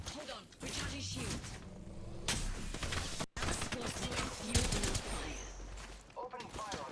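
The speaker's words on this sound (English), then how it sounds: "The enemies are shooting at me." Video game gunfire, rapid bursts of shots and mechanical clatter that continue throughout, with a player's voice talking over the action.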